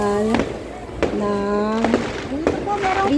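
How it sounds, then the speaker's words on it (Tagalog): A New Year fireworks display at Skylands in Tagaytay: several sharp cracks and pops bursting at irregular intervals, mixed with an overlapping voice talking and calling out nearby throughout. "Fireworks po dito sa Skylands sa Kagaytay."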